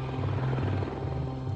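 A helicopter drones steadily through a manhunt involving dozens of searchers and dogs, its low, throbbing rotor hum continuous and fairly close, with no voices over it.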